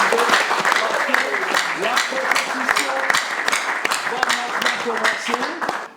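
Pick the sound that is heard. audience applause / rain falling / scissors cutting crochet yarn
audience applause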